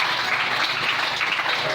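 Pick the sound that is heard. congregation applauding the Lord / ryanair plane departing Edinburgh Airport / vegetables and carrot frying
congregation applauding the Lord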